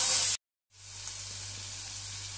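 Onions, green chilies and garlic sautéing in a hot pan give a steady, moderately loud sizzle and hiss, broken by one brief dropout near the start, with no talking.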